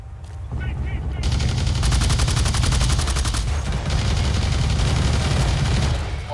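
Rapid automatic gunfire in the Blacklight: Tango Down team deathmatch shooter game, a long sustained burst of fast, loud cracking shots lasting several seconds after a brief quieter opening.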